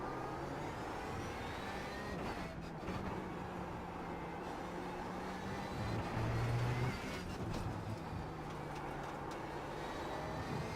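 Race car engine in the sim racing game iRacing at the Okayama circuit, a steady droning motor with rising pitch sweeps as the car accelerates out of a corner, continuous and fairly loud with no talk.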